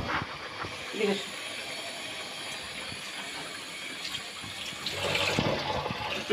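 Running tap water splashes over something being washed in a home kitchen sink, a steady hiss with brief clatter near the start and a louder rush toward the end.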